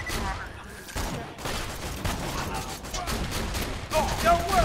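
Sniper rifle fire in the Borderlands 2 shooter game, sharp shots ringing out over a dense, busy mix of game combat noise and mechanical clatter, with voices chatting over it.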